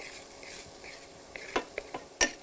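Chopped parsley stirred into sautéing onions for shepherd's pie: a faint frying hiss, then a few distinct scraping stirs and a sharp utensil tap against the pan near the end, close and without talk.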